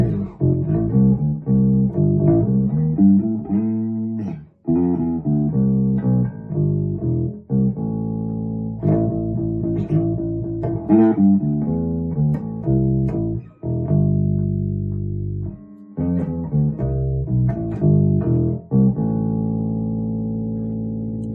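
Bass guitar played straight into a miked bass amplifier with no effects, a steady run of deep, round plucked notes and phrases with short pauses between them, close and fairly loud, no voices.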